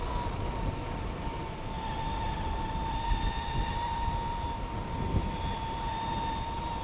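A homemade electric bike motor cruising at about half throttle: a steady whine with a sustained tonal pitch over continuous wind rumble, even and unbroken throughout, no voices.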